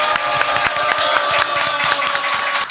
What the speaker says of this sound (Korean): 여러분의 힘찬 박수로 시작하겠습니다